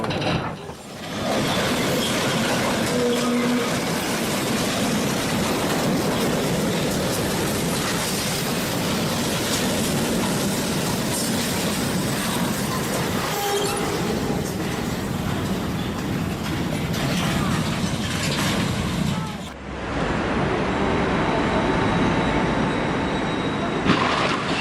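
Train rolling along rails with a sustained rumble and rhythmic clatter of wheels over track joints, loud and continuous, with a brief dip before the sound shifts near the end.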